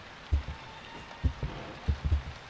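Rain in the horror video game Silent Hills: sparse heavy drops land with dull irregular thuds over a faint ambient hiss, quiet and close, with no talking.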